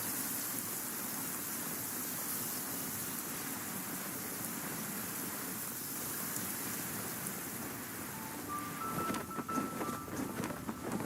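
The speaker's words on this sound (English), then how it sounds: "Taking shelter and listening to the rain cleanse the earth makes me feel safe." Video game rain falling steadily as a dense, even hiss, with faint pattering and a few light clicks near the end.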